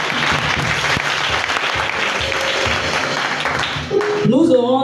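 A church congregation claps in applause during a service, a sustained steady wash of many hands that then gives way to music and singing near the end.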